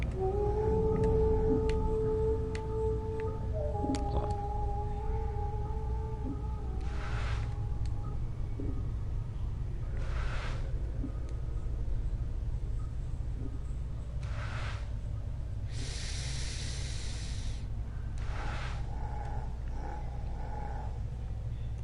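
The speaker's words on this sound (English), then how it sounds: "Ah, the musical sound of zombies." Zombies in the Planescape: Torment video game let out low, droning tonal moans that slide and waver early on, over a steady ambient background hum with occasional soft bursts of noise.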